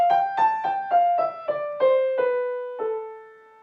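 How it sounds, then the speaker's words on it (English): Aeolian scale played on a single melodic instrument for a lullaby piece, eight clear descending notes in a slow, even sequence, each ringing briefly, the last held and fading into silence. "the Aeolian scale sounds like this"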